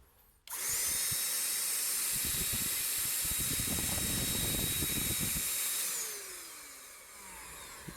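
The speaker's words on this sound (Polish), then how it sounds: "Mamy dmuchawę." A cordless Parkside PFSA 20-Li A1 paint sprayer running as an air blower switches on abruptly with a high whine and rushing airflow, runs steadily, then winds down toward the end.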